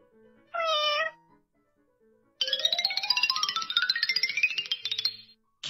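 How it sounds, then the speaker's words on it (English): Cat meowing in the Starfall educational game, a short cartoon meow followed by a longer rising, wavering meow, both clear and close against a quiet background with a soft chime. "Cat."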